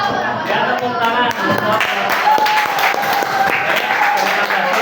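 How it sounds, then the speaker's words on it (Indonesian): Applause from a classroom full of students at a senior high school group presentation, steady clapping mixed with crowd murmur and some voices underneath. "Ya, tepuk tangan."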